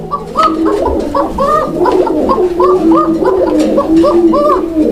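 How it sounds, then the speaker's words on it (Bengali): Raj Golla pigeons coo in a steady repeating series of throaty, bubbling calls close by, one phrase after another over a faint background murmur. "যারা কবুতরের ডাক শুনতে চান"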